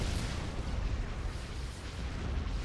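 A heavy explosion in a Star Wars video game, a loud, sustained rumbling roar that fills the whole short stretch without easing off.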